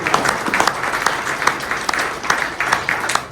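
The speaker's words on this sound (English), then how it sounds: "I want to give them a big round of applause for that" An audience at a civic panel gives a sustained round of applause, a dense, fairly loud patter of many hands clapping throughout.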